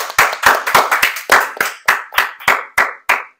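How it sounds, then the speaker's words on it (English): Applause for departing students John, Carlos and Bradley at their last school morning broadcast: about eleven distinct hand claps from a small group, spaced evenly and close by, each bunched burst slightly quieter than the last, with no talking. "Let's give John, Carlos, and Bradley a round of applause"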